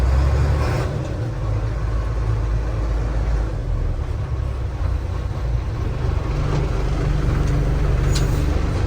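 A 1991 International 4900 dump truck backs up in reverse, its engine a constant, close, loud low drone with brief higher whines and clicks, no voices.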